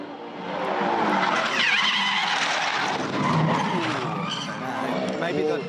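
A Supercars Championship race car loses its rear and skids, tires squealing in loud, wavering shrieks over a roaring engine, while commentators talk throughout.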